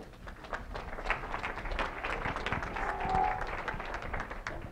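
An audience at a Teacher Librarian Day event in Denver welcomes a speaker with applause, a moderately loud, steady spatter of many hands clapping for several seconds, heard on its own without speech.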